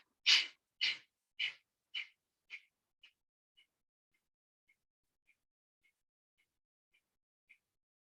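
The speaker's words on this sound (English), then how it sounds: "Inhale to prepare." Slow, deep breaths during a guided breathing exercise: several strong airy breaths fade gradually in strength, then trail off into faint, sparse breaths, close up with no talking.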